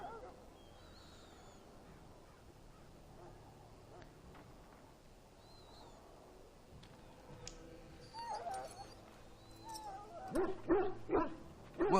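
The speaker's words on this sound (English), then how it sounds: "This is a Mabari. Smart breed and strong." A Mabari war dog in the Dragon Age game barks, yips and whimpers in loud bursts near the end, after a stretch of quieter ambient game sound with a faint voice.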